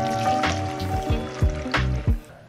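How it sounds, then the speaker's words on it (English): A Christmas cocktail poured into a glass in a home kitchen: a short, soft liquid splash and trickle with a few clinks, sitting under a steady background of music. "So let's pour it in here."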